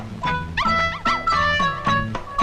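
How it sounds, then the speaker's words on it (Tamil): A small dog barks and yips in quick, high, close bursts during a Tamil comedy film scene, with several sharp yelps in a row and no talk over them. "யோ நாய் இங்க இருக்குதுயா"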